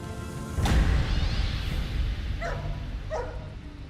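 Dogs bark at a black bear treed at a campground: a loud close bark opens, then a few fainter yelps and bark-like calls follow over steady rumbling outdoor noise.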